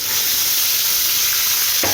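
A steady, close sizzle of onion, garlic and ginger paste frying in a hot pan, a continuous bright hiss that barely changes throughout, with no one speaking.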